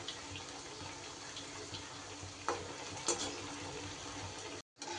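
Potol (pointed gourd) fingers frying in oil over medium heat, a steady close sizzle and crackle with a few sharper pops and stirring clicks, no voices over it.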